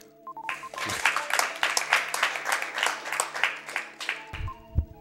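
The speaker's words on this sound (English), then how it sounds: "I guess we can clap for Z4T0X now, though." A live audience at a speedrunning convention claps for a runner, a burst of scattered clapping over steady electronic tones that trails off near the end before a brief thump.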